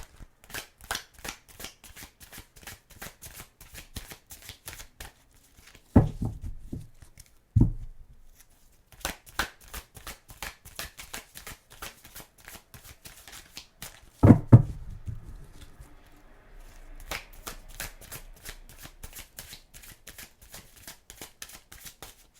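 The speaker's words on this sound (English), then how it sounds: "I'm going to pull you a few cards from here." Tarot cards shuffled by hand during a reading, with repeated crisp riffling bursts and papery flicks broken by short pauses and a few soft thumps, close and clear, with no talking.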